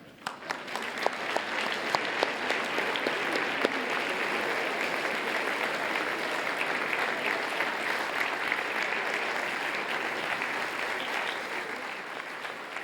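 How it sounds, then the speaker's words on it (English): A large conference audience claps steadily for about ten seconds at a plenary session on employee wellbeing, the dense applause holding an even level throughout with no voices standing out. "give yourselves 10-second applause"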